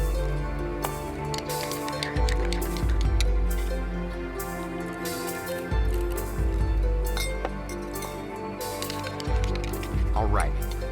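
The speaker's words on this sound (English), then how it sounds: "I'm just gonna stir all those flavors together before I pour them into the glass" A spoon clinks and scrapes against glass while an espresso drink with added flavors is stirred and poured, the light tapping steady over a humming background and occasional talk.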